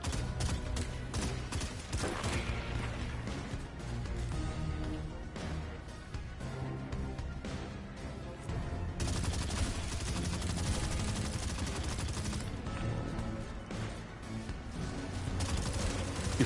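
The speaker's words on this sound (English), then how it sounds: "Oh, why am I shooting that guy?" Dense, continuous gunfire from the video game Destiny 2, played on PS5, with rapid bursts blending into a loud, busy mix of game sound for the whole stretch.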